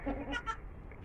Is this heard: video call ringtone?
no